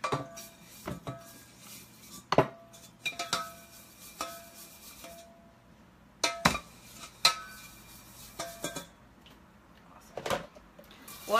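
A pan being washed out in a kitchen sink: scattered clanks and clinks of metal and dishes, irregular bumps at close range with quiet gaps between them, no talking.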